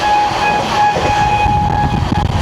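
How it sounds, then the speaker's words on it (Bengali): A Ganga Sagar Express train with LHB coaches runs at 110 speed, giving a loud, steady rolling rumble and wheel noise with faint tonal whines riding on top, with no talk. "বন্ধুরা আমাদের ট্রেন এখন স্কিপ করবে পলতা। চলো 110 স্পিডে"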